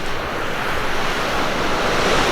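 Ocean surf rolls in rough and aggressive at Hollywood Beach, a loud continuous roar of breaking waves mixed with wind buffeting the microphone.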